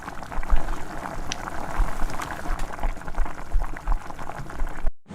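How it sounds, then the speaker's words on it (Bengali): Water at a rolling boil in a pot, a dense bubbling and gurgling close by that continues steadily before cutting off abruptly near the end. "তারপর আমার জলটা টকবক টকবক করে ফুটে ওঠার পর কাঁচা চাউমিনটা দিয়ে দিচ্ছি"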